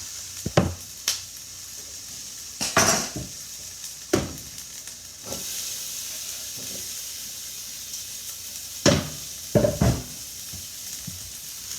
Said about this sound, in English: so we're ready to put our peppers in